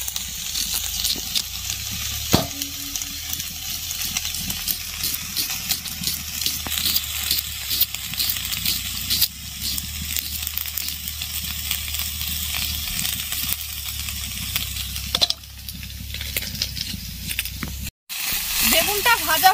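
Eggplant frying in oil in a wok gives a steady, continuous sizzle throughout, with a few sharp clinks and a brief dropout near the end.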